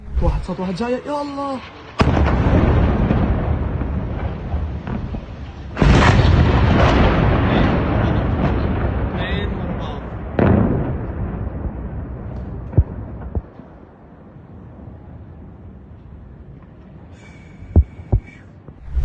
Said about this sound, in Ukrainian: Вранці потужні вибухи пролунали в Дамаску